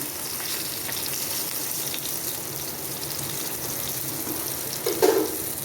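Pomfret fish frying in sunflower oil in a pan, giving a steady, close hiss and crackle that runs without a break, with a short louder splutter near the end and no one talking.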